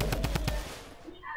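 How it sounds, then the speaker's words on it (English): Rapid automatic gunfire from a video game, a quick burst of about four loud shots in the first half second, then fading into quieter game ambience. "I got shots behind me."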